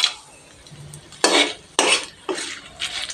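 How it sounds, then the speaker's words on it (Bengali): Whole garam masala spices and bay leaves are stirred in hot oil over low heat, bursts of scraping and rattling from the utensil coming in three or four short strokes with quiet gaps between, up close. "নেড়ে দিচ্ছি।"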